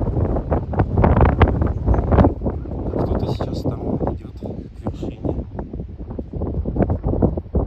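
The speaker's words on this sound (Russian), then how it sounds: "Ветер дует." Wind blowing hard across a high slope of Mount Elbrus, a loud, steady buffeting roar with gusty surges that batter the microphone close up throughout.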